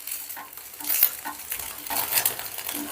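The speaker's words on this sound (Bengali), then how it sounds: "দেখো, ডিমটাকে এবারে আমি একটা খুন্তির সাহায্যে একটু বড় বড় টুকরো করে কেটে নিচ্ছি।" An egg fries in a pan while a metal spatula cuts it into large pieces, giving repeated scraping and tapping strokes over a light sizzle, close and moderately loud, with no talking.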